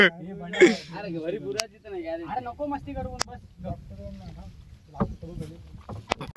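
A rowboat moves across water on a return trip home, its soft water and hull sounds running under near, constant conversation between several people.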